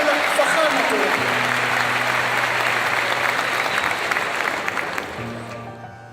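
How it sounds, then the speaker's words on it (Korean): A large audience gives loud, sustained applause to welcome South Korean President Lee Jae-myung. The dense clapping fills the hall throughout and eases slightly toward the end, with a voice over a loudspeaker briefly heard above it. "따뜻한 박수로 환영해 주시기 바랍니다"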